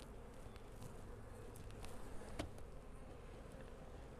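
Honey bees buzz around a crowded hive box, a quiet, steady drone with a few faint knocks and rustles on top, no talk.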